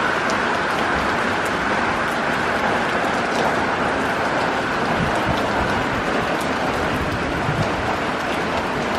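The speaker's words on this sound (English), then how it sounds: "We prayed for rain, we get rain." The first rain of the season falls steadily in Tzfat, a dense, even hiss of rainfall that stays loud and unbroken the whole time.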